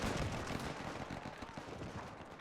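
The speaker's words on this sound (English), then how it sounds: "The machine gunners are having a field day." Machine gun fire in a World War One video game, a dense rattle of rapid shots and distant booms crackling continuously through a short burst of battle.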